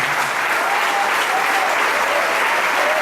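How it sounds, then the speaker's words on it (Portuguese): A church congregation applauds, with dense, continuous clapping from many hands filling the room, loud and steady throughout. "Desocupe as suas mãos e vamos aplaudir a palavra do Senhor"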